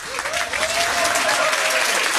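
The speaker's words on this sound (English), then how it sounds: "There's give them a round of applause" An audience at a pub trivia quiz at the Isle of Ely breaks into steady applause, many hands clapping together at close range, with a faint tonal whine running along underneath.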